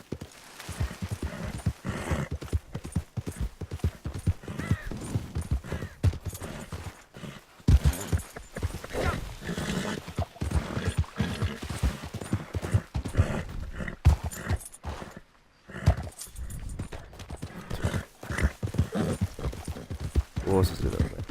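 Rhythmic hoofbeats of a galloping horse in Red Dead Redemption 2 Online run steadily throughout, with game sound effects and occasional brief dips in the busy, dense mix.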